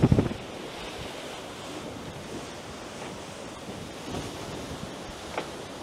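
An Ultim sailing trimaran slices through a fairly flat sea at 25 knots under a large gennaker, making a continuous rush of water and wind buffeting that stays steady throughout, with no voices.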